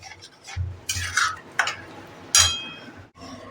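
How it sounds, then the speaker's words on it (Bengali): A ridge gourd and lentil curry is stirred in a pan, the spoon scraping and clinking against the metal in a few separate bursts, close by and moderately loud, with short quiet gaps between strokes. "যেহেতু এটাতে ডাল আছে এটা কিন্তু ক্রমাগত নাড়তে থাকতে হবে"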